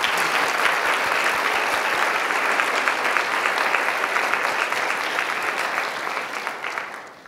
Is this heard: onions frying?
no